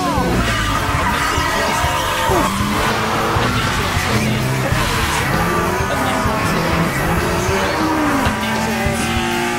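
Street racing cars from the Initial D anime, including an 86, roar at full throttle with tires squealing through skids, loud and continuous, layered with music throughout.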